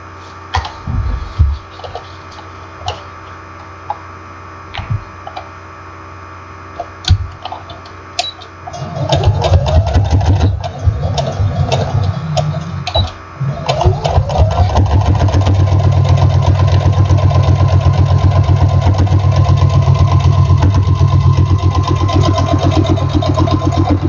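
A sewing machine top stitches box binding on a quilt. Quiet handling noises come first, then from about nine seconds the machine runs steadily and loudly, a close whirring motor hum with fast needle ticking, and no one talks.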